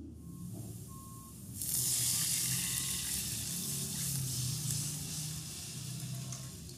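Water is poured into a hot pot where garlic has been sautéing for instant noodle soup, a sudden loud rushing sizzle that settles into a steady hiss, with faint low kitchen hum underneath.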